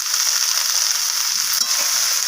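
Chopped red amaranth leaves sizzle in hot oil in a pan, a loud, steady, hissing fry that stays close and continuous, with faint clinks of stirring underneath.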